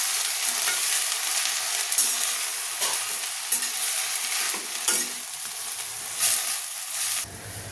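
Fenugreek leaves with their stems sautéing in a pan, a loud continuous sizzle broken by repeated spatula strokes, close up.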